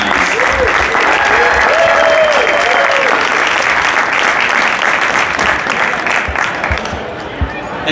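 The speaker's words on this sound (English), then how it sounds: "So let's give them a big round of applause." A large crowd at a Chicago business networking event gives the chamber staff a big, loud round of applause, with voices and cheering mixed in as the clapping holds strong before thinning out near the end.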